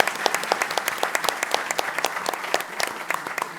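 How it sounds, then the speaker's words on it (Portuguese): Audience applause closing a session at a coaches' congress: dense, steady clapping from a crowd, close and loud, holding throughout with no talk over it. "Uma grande salva de palmas para esta excelente sessão."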